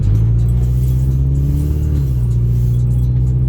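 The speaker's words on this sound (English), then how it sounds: "Sorry, my car is very noisy." A car with no exhaust system idles loudly with a deep, rough rumble and a brief rev, a steady close engine drone throughout, with no talking.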